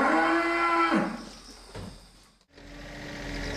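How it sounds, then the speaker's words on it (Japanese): Beef and dairy cattle on a hillside farm in Minamisoma, Fukushima, give a long, loud low moo, followed by rustling and a quieter second moo starting, with no one speaking. "以前警戒区域に指定されていたこの場所で67頭の肉牛と乳牛が飼育されています。"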